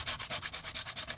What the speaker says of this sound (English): sand it down quite a bit